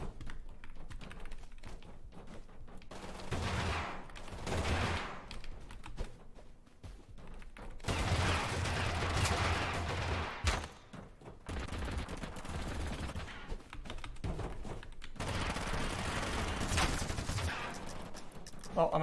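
Bursts of video game gunfire from Totally Accurate Battlegrounds come in several dense volleys, broken by quieter gaps. Players talk over parts of it.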